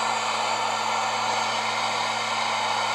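A torch flame roars steadily at close range as it heats the rear wheel bearing bolts on a 2007-2012 Mazda CX-7, a loud, even hiss with a low hum beneath and no talking.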